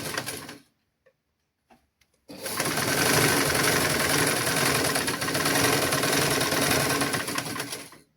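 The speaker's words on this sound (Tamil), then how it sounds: "இந்த நேருக்கு நாங்கள் இனி தைக்கணும்." A sewing machine stitches children's clothing fabric in a tailoring lesson, a steady close whirring run that starts after a couple of faint clicks and continues to the end.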